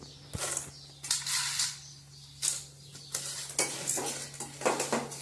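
Mango seed mukhwas cooking in ghee, with a steady low hum beneath repeated scraping stirs and light clinks of a spoon against the pan, the sizzle faint and broken by pauses.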